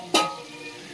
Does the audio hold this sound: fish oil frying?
yes